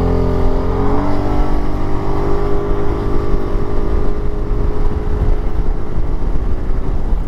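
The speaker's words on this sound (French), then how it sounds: "je vais taper une petite accélération" A Kymco Xciting VS 400 scooter accelerating hard, its engine note rising steadily under loud, continuous wind rush with no talking.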